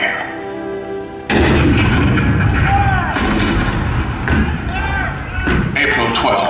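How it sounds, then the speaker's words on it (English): Cannon fire booms loudly in a Fort Sumter show effect at Disney World's Hall of Presidents, with a sharp blast followed by sustained rumbling and further heavy reports, while a narrator speaks over the bombardment. "The cannon spoke for war, bitter, violent, and devastating."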